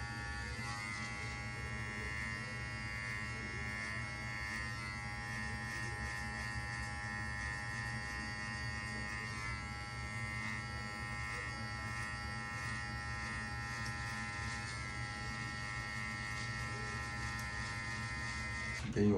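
Hair clippers with a one guard and lever open buzz steadily and close during a self haircut high taper, a constant electric drone with no pauses throughout.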